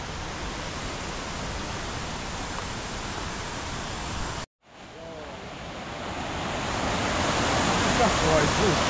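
The Vrbas river rushes at Krupa na Vrbasu in a loud, continuous roar. The sound drops out briefly midway, then returns and swells louder toward the end.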